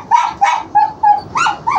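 A run of about six short, close, high-pitched barks and yips from dogs excited by food, with no talking.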